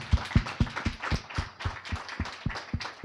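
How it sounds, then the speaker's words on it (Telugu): A congregation at a Telugu Catholic church service claps hard and steadily, about a dozen sharp, evenly spaced claps in quick succession, with no talking over them. "నమ్మితే గట్టి చప్పట్లు కొట్టాలి."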